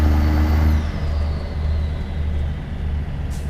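Peterbilt 389 truck with a high-torque diesel at full throttle, a deep loud rumbling engine drone that opens with a steady low tone and then pulls on continuously as the truck accelerates.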